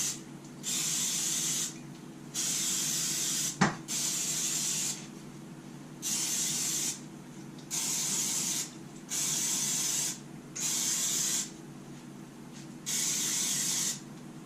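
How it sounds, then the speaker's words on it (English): Cooking spray hisses onto a baking tin for mince pies in eight or nine short, loud, evenly spaced bursts, with a brief knock partway through. "So make sure you spray your tin liberally."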